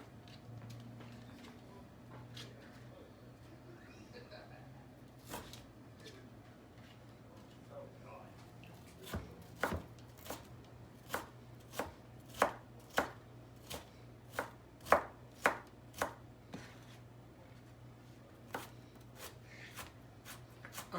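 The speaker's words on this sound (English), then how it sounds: "Just take your time, just keep your fingers safe, and dice." A knife dices vegetables for shrimp fried rice on a cutting board, a quiet stretch giving way to a run of crisp, evenly spaced chops that grow louder, while a person talks over the low kitchen background.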